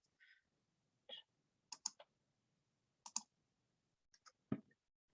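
A computer mouse clicks several times in a quiet room, giving faint, sharp, isolated clicks spaced irregularly over a few seconds with no talking.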